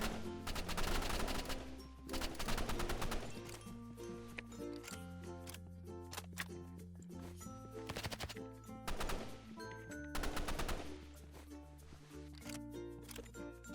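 Rapid bursts of Uzi automatic gunfire in the Roblox game Rivals rattle repeatedly over a steady backing track of music, with short pauses between volleys.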